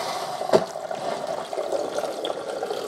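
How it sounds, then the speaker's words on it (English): Fresh water is poured into the reservoir of a Braun BrewSense KF7170 coffee maker during a rinse after descaling, a soft close splash that settles into a steady gentle trickle. "We're gonna pour it back here now."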